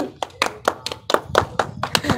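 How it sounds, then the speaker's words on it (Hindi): Hands clap in a quick, slightly uneven series of about ten sharp claps, close and fairly loud, with a voice briefly underneath. "बजाओ तालियां"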